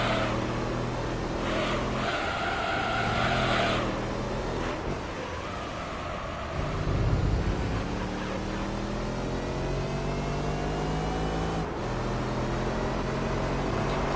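A race car engine in Gran Turismo 3: A-Spec during a 100-mile event at Seattle drones continuously at high revs, its pitch rising and falling through gear changes, loud and steady throughout.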